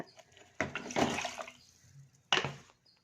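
Tamarind water poured from a container into a mixer jar, two short splashing gushes of liquid close by with a brief pause between, no talking.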